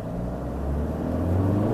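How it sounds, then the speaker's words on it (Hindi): A Toyota Hilux 2023 with a 3-litre engine launches from standstill, its engine note a low, steady rumble that grows slightly louder as it pulls away, heard from inside the vehicle. "अभी गाड़ी हमने स्टैंड स्टिल कर दी है और इसके बाद से हम लॉन्च करके देख"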